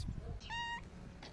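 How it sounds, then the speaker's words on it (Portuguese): A kitten on a street gives a single short, sad meow, fairly faint and clear against quiet outdoor background noise. "Tá miando triste."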